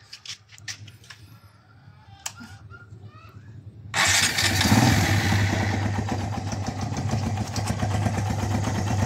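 A Kawasaki Barako 175 motorcycle sits quiet at first with faint talk nearby, then its engine suddenly fires into a loud, steady, rather high idle that continues to the end.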